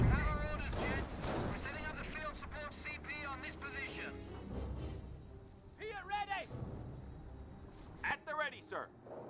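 Incendiary mortar fire in the video game Company of Heroes lands as muffled booms and crackling battle sounds under steady commentary talk.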